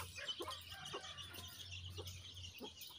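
Village chickens and their chicks cluck in short, repeated calls close by, fed on protein-rich termites, over a steady low hum.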